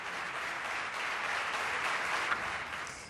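A long ovation in the Catalan parliament, steady sustained clapping from many members heard at moderate distance, even and unbroken.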